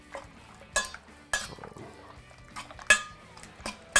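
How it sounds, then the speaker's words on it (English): A fork clinks against a bowl while stirring chicken wings into beaten eggs, giving several sharp, close metallic taps spaced irregularly over a soft background. "I can use that same fork to just kind of stir these up"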